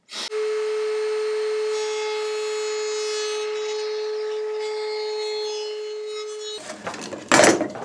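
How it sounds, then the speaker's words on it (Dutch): Hand saw cutting through a 13 mm thick wooden slat for making putty strips, a steady close-up rasping stroke held for several seconds before breaking into a few rough, uneven scrapes at the end. "Ik heb nu eh, twee keer gezaagd, want dat latje was 13 mm dik"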